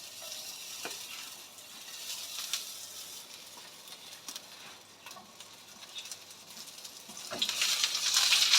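Zucchini pieces sizzle in a hot pan with a light sprinkle of salt and pepper. A steady close crackle comes with small ticking pops and swells louder toward the end.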